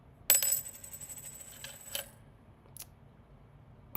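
Coins drop and clink, starting with a bright burst of jingling metal, then a few scattered lighter clinks and one more distant tap before quiet.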